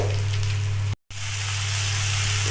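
A paste of ground ginger, garlic, chili, cumin and turmeric sizzles in a pan of fried onions for a village-style katla fish kalia, a loud, steady close frying hiss with a brief cut-out partway through.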